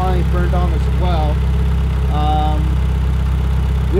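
A turbo-upgraded Mitsubishi Evo IX idles with a loud, steady low drone and fine mechanical pulsing that holds without change, while people talk over it.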